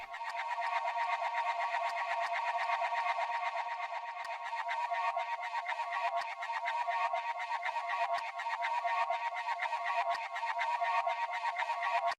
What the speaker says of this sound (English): I've taken a part of this delayed signal and I've turned it into this rhythmic type of pad